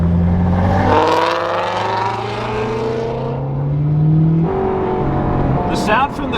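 An Audi R8's engine revs from inside the cockpit, a steady droning tone that climbs and holds, then drops and rises again after a shift; loud and close, with someone talking over it.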